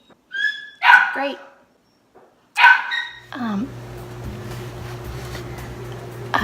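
A small puppy gives two short bursts of sharp, high barks close by, with a brief spoken word between them, followed by a steady low hum.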